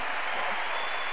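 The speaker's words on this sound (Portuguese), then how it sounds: "Eu quero que você dê um aplauso ao Senhor" Applause from a congregation during a women's church worship service, a dense, steady wash of clapping filling the whole brief moment at moderate loudness, with no talk over it.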